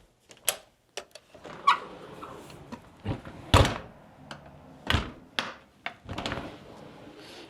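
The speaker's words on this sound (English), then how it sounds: "We have another pocket door here." Pocket door in a 2002 Prevost Country Coach XL2 40-ft motorcoach sliding and knocking shut, a series of close, sharp thunks and clacks spread over several seconds with light rattling between them.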